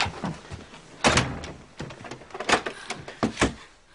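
A door is knocked and thudded several times, with uneven bumps and one firmer closing thunk, fairly close, with no talking.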